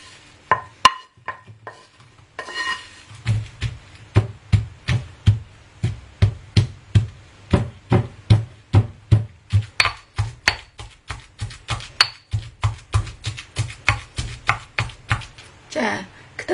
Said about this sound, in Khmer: ឥឡូវយើងចាប់ផ្ដើមបុកម្ទេសហើយនឹងខ្ទឹម